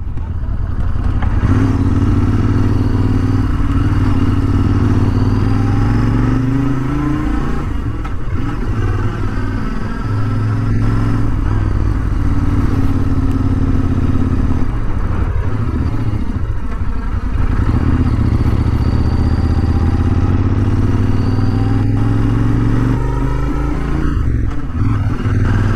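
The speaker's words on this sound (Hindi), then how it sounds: "अगर आप इसको थोड़ा भी एक्सेलरेट करेंगे द बाइक पुल्स" A Royal Enfield Interceptor 650 motorcycle is ridden and accelerated, giving a steady, loud engine drone with wind rush that swells and eases across the whole stretch, with a rider's voice talking over it.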